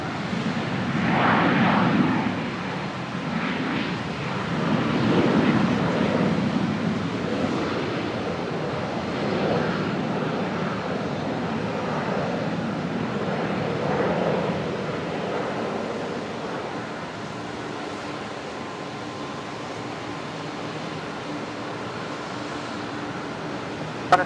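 A Boeing 737 NG fitted with split scimitar winglets passes at Brisbane Airport around sunset, its engine roar a broad, steady rumble that swells early, then eases into a sustained distant drone over wind.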